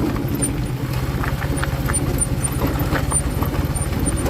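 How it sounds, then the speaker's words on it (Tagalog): A motorized tricycle rolls slowly along a rough, rocky road near a river, its engine a steady low putter with faint rattles and knocks from the uneven ground. "Dahan-dahan lang kami kasi nga tricycle yung aming dala."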